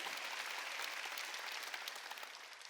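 A church congregation at a Wednesday worship service bursts into applause, a dense wash of many hands clapping together that stays steady and slowly fades toward the end.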